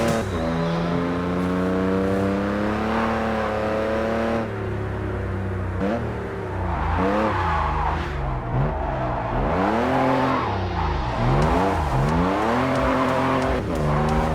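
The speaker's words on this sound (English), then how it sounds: "Let's drift our way in style to get some bonus cash at the end." A car drifting in the video game Japanese Drift Master, its engine revving and swooping up and down in pitch with squealing tires, loud and continuous throughout.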